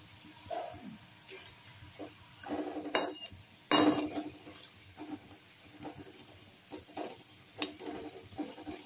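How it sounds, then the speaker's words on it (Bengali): Pea-stuffed kachori are slipped into hot oil, bringing two loud bursts of sizzling splashes, then a quieter bubbling fry that carries on with faint handling sounds. "দেখুন এইবার তেলে ছাড়ছি, দেখুন ভাজা হচ্ছে।"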